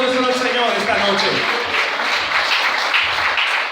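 A church congregation claps in steady, full applause during an evening service, a dense wash of hands that holds at an even level throughout.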